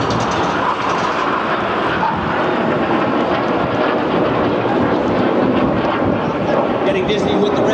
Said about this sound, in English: The fifth jet now starts to roll around them a dozen times.